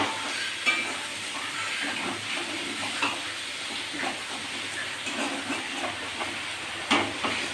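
Raw mango with chili powder stirred in a pan for a sweet jelly pickle, a soft steady hiss of gentle cooking with faint periodic scrapes of a spoon, no talking.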